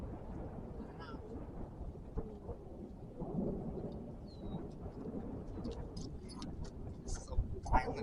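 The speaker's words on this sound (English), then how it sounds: "This is a violent storm." A thunderstorm with near-constant lightning growls and rumbles low and distant, with rolling thunder swelling midway over a bed of rain and scattered crackling ticks, all fairly faint.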